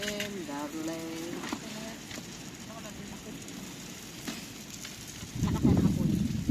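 A campfire used for cooking beef at a campsite on Tap Mun Island crackles and hisses under people talking, then flares louder near the end.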